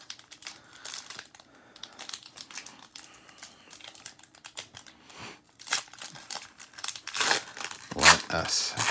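Foil wrapper of a 2013 Pinnacle hobby baseball card pack being torn and crinkled open, crisp close rustling that grows louder and busier toward the end, with faint talk in the background.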